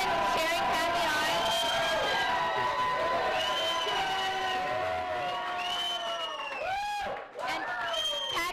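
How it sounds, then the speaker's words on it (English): A crowd cheering for Pappy at an evening community gathering, loud sustained whoops and shouts of many voices all the way through, briefly dipping near the end, with people talking amid the noise. "everyone cheering Pappy on"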